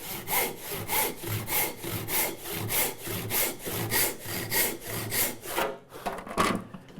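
A hand saw rips through small wooden stock in a steady, even back-and-forth rhythm of rasping strokes, close and clear, then stops as the cut ends with a few faint handling knocks.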